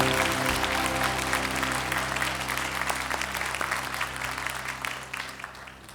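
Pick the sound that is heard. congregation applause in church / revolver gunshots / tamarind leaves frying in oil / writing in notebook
congregation applause in church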